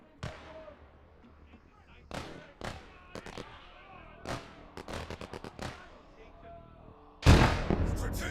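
Mortar artillery fire in the WWII video game Gates of Hell: scattered muffled thumps and distant booms at irregular intervals, then a loud, close blast near the end.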